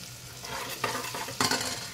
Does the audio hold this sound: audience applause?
no